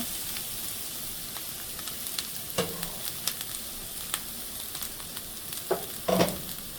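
Chopped onions sizzle steadily in hot oil for methi saag, a dense continuous crackle with scattered sharper pops and a few brief scraping stirs, close and moderately loud with no talking.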